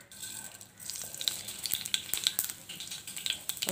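Mustard seeds crackle and pop in hot coconut oil for a green chilli pickle, a soft sizzle growing into quick, irregular sharp pops close by.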